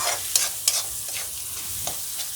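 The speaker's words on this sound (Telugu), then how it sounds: "కొంచెం ఈ టమాటోస్ని ఉడకనిద్దాం. అండ్ మసాలాస్లో కలిసిపోతుంది." Tomatoes simmering with masala in a pan for egg curry, a steady soft sizzle with a few brief stirring scrapes and clicks, close and continuous with no talk.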